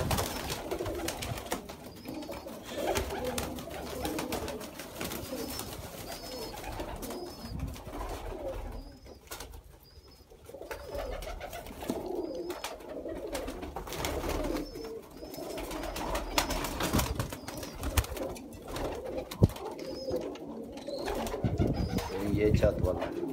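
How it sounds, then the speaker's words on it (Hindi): Sialkoti pigeons (the chohay breed) coo in soft, repeated calls on a rooftop, at moderate distance, against a steady background with murmuring voices. "ये चूहे कबूतर"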